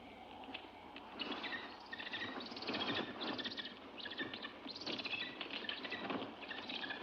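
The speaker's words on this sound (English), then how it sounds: "That bird, He attacked me." Bird wings flapping and fluttering close by in a dark forest, a busy, continuous flurry of beats lasting several seconds, with no talk over it.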